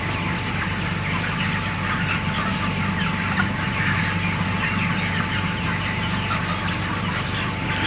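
A poultry farm shed full of chickens, with a dense, continuous murmur of clucking and chirping under a steady mechanical hum from large fans, even and unbroken throughout, no talk.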